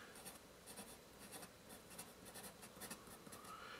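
A General's Semi-Hex graphite pencil writes on paper, making soft, close scratchy strokes in a steady, uneven rhythm of short scribbles, faint and with no talk over it.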